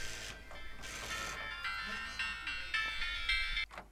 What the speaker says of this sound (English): So this was my cell phone,